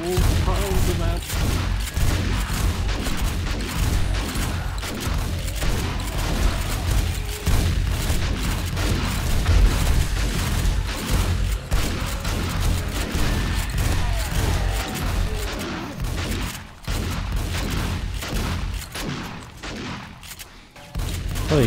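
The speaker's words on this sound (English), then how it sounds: "What are you shooting?" Dense, continuous gunfire and booming explosions during a nighttime base attack in the video game 7 Days To Die, loud and relentless, with occasional voices underneath.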